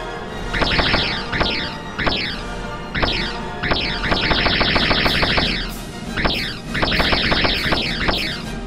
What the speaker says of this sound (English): Full power to the phasers.